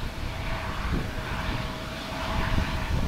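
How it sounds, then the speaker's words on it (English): A fixed-wing plane taking off passes as a steady, distant engine roar that slowly swells in loudness over a few seconds, heard alone without speech. "Oh, we got a plane taking off."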